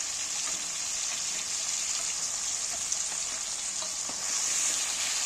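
Spice paste for an okra curry fries in a pan with a steady, bright sizzle and faint crackles, close and continuous, with no voices.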